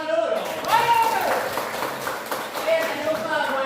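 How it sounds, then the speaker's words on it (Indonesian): Classroom applause as students clap together, a steady dense patter of many hands lasting a few seconds, with a voice speaking over it. "Oke, terima kasih, tepuk tangan dulu dong."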